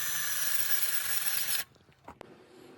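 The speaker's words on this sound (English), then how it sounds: "Drill that all the way through both pieces," A power drill bores a hole through two pieces of a metal bracket on a Sprinter van towing setup, a loud steady grinding whine that stops abruptly, followed by a few faint clunks and scrapes.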